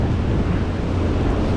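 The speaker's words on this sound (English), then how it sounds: "I don't know if you guys can hear that wind, but it's just howling" Strong wind roars steadily across the microphone beside a roadside creek, a loud continuous buffeting rush with no pauses and no voices.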